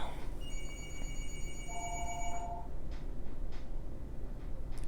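A telephone rings indoors with steady, tonal electronic ring bursts over a constant background hiss, at moderate level and with no talking.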